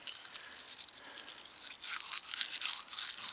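Dry wheat heads rubbed between the palms in a field, giving a close, steady rustling crunch of husks and grain that swells and fades in soft pulses for a few seconds.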